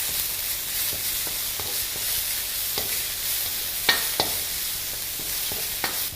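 Onions with a pinch of salt sauté in a pan under a constant close hiss, cut by several sharp clicks and scrapes of stirring, with no voice present.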